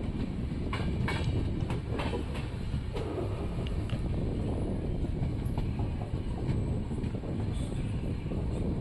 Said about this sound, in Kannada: ರಾಯಚೂರು ರೈಲ್ವೆ ಸ್ಟೇಷನ್ ಒಳಗಡೆ ಎಂಟ್ರಿ ಆಗ್ತಿದೆ ನಮ್ಮ ಟ್ರೈನು.